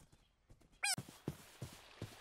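A horse in the RLCraft modpack for Minecraft lets out one short, loud, harsh cry in the middle of low game sounds and scattered thumps.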